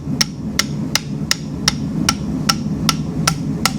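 A hammer strikes a U-bolt to knock a trailer wheel hub loose, about ten sharp, evenly spaced metallic blows ringing out close and loud over a low background rumble.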